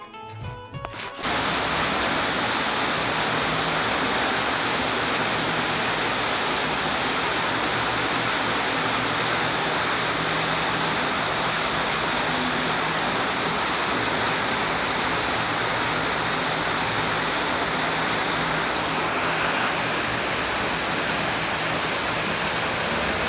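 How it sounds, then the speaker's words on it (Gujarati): Water rushes through a field channel filled to the brim, a dense continuous roar of flowing water heard close and steady throughout, with no voices. "આખા દાર ભરાઈને પાણી આવ્યું છે, બધા દારમાં પાણી આવ્યું છે"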